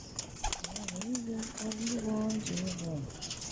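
Pigeons coo in soft repeated throaty phrases at close range, with faint clicks and handling noise around them.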